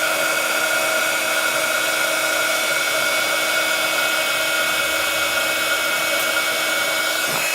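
Continuous whirring blow of a heat tool held beneath a craft card to melt embossing powder, steady and close throughout with a constant hum and no voices.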